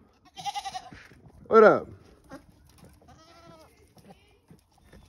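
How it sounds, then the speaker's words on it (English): Goats bleat in a farmyard on a cold day, a couple of close, loud, wavering cries with one strong bleat in the middle, while a person briefly speaks and other animal noises sound faintly around them. "Good goats."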